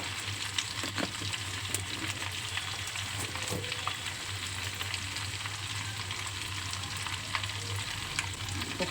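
Spices with garlic paste and turmeric fry in a pan for prawn pickle, giving a steady close sizzle with occasional soft clicks of stirring throughout.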